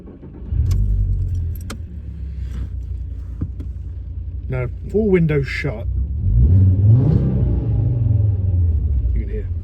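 Volkswagen Golf mk4 with a V5 engine, heard from inside: keys jangle, the engine cranks and starts, then settles into a steady, loud, low idle, with someone talking briefly over it.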